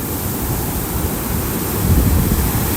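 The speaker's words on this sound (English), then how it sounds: "look at those waves crashing" Big waves crash onto the shore at Sarasota, Florida, during Tropical Storm Debby, a loud continuous roar of surf mixed with gusting wind that swells near the end.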